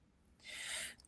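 A single short sneeze, a brief breathy burst lasting about half a second, fairly close but soft against a quiet room.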